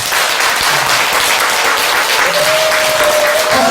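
A crowd at a Buddhist dharma service applauds loudly and steadily throughout, dense clapping filling the whole stretch without a pause.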